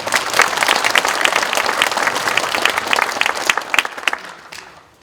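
Steady applause from a crowd at a research institute's opening ceremony, dense clapping that holds for several seconds and then tapers off toward the end.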